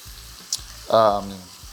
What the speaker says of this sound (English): the first thing we need to do is to brown our meat